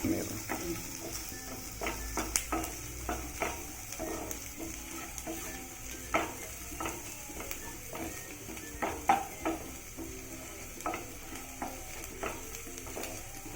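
Onions sautéing in a pan for beetroot chutney: a soft sizzle beneath repeated light scrapes and clinks of a spoon stirring against the pan, fairly faint and close.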